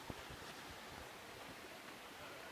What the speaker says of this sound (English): That's the sound of running water.